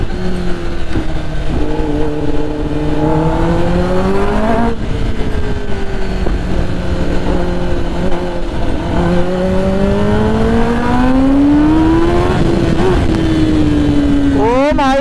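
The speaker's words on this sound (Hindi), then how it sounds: "बैक फायरिंग भी आ रही है।" A Kawasaki ZX-10R motorcycle with a new aftermarket exhaust revs up and down repeatedly, its exhaust rising and falling in pitch, loud and close, with a burst of rapid backfire crackles near the end.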